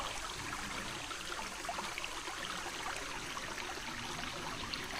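A mountain creek in the Blue Ridge rushes steadily just above the drop of a waterfall, its close, even wash of water flowing alone without any voices over the whole stretch.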